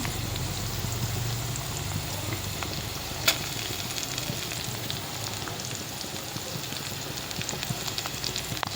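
Garlic and green chillies frying in hot oil in a pan, giving a steady, close sizzle with crackling spatter and one sharp pop partway through, with no talk over it.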